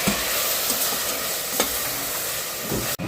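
Ginger garlic paste frying in hot oil for egg biryani, a steady close sizzle with stirring scrapes and a brief sharp clatter near the end, no voices.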